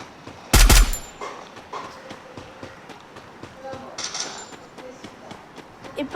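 Gunfire in the Free Fire mobile battle royale game: one loud sharp shot burst near the start, then faint repeated footstep-like taps and a second softer burst later, under background sounds.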